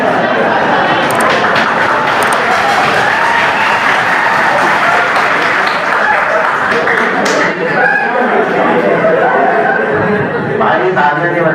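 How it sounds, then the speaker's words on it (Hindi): A lecture audience claps steadily for the whole stretch, a dense, loud wash of many hands that never breaks into a clear rhythm, with murmuring voices mixed in. "भाई तालियां नहीं बजाओ, नीचे बजाने"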